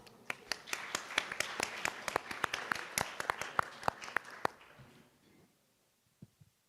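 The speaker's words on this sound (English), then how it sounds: "Please join me in giving him a big round of applause" A small audience at an environmental policy forum claps in sharp, distinct strikes that come fairly close together, then thins out and stops, leaving near-silence with a couple of faint taps at the end.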